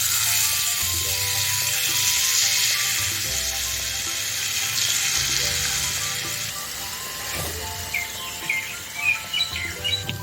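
Murukku dough pressed into hot oil sizzles in a steady, bubbling hiss that eases off midway, while bird chirps sound faintly in the background toward the end.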